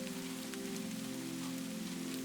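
Steady rain falling in a wooded setting, a dense even patter of drops, with a sustained low hum running underneath throughout.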